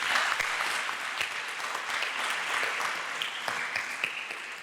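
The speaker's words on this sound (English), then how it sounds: "I think they all need a round of applause" An audience applauds at a live conversation event, a full, steady burst of many hands clapping together that stays loud and even for several seconds.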